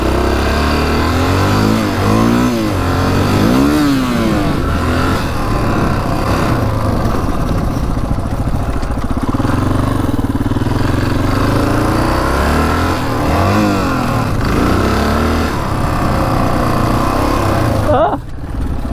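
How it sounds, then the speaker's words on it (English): An old Honda 500cc motorcycle engine revs up and drops back as it runs through the gears, loud and close. The engine note rises and falls throughout, with a sharp change near the end. "Yeah, she goes through all the gears."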